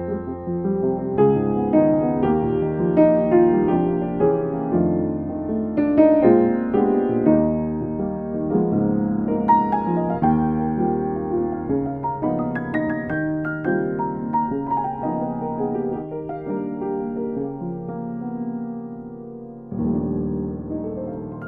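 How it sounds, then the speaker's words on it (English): Solo piano vamps on 1 flat 7 chords as an extended, improvised ending to a song, with continuous chords and melodic runs at steady moderate volume for over twenty seconds, no voices. "we can create sort of a little mini, almost like a mini solo, a little vamp at the end"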